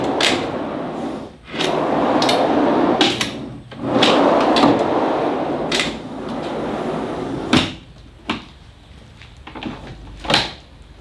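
A custom-built wooden inner drawer slides open and shut several times, each smooth rolling run ending in a firm knock, followed by a few lighter closing thuds close by.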